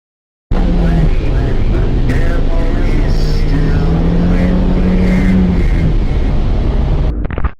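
Loud car engine speeding steadily with strong harmonic drone and rising pitch, close and continuous for several seconds before cutting off abruptly; faint voices may sit beneath the roar.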